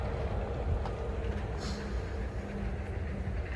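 A Disney World monorail rumbles past at a distance, a low steady rolling drone with faint rail noise, heard amid open outdoor ambience.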